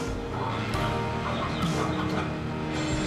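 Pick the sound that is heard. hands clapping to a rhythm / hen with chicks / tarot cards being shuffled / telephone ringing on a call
hen with chicks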